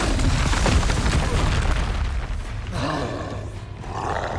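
The Depulso force spell from the Hogwarts Legacy video game on PS5 hits with a loud, close boom and roaring rush that fades into a softer swirling tail.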